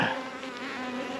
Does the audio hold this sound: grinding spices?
no